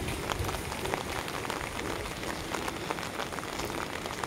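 Rain falls steadily on a subdivision street in Davao City, a close, even patter with scattered drops, and no one speaks.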